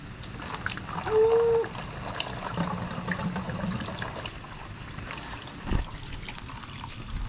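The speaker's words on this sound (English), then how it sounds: "Still got to drain the coolant, so I'm going to do that real quick" Coolant trickles and pours from a 2000 Honda CBR929RR motorcycle being rebuilt, a soft uneven dribble with small splashes and a brief tonal squeak, close and fairly quiet.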